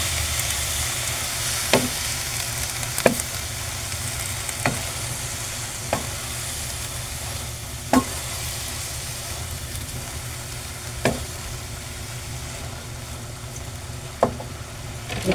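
Cabbage and sardines sizzle steadily while sautéing in a pan, a continuous frying hiss broken by about eight sharp knocks of a spatula or spoon against the pan, spaced a second or two apart.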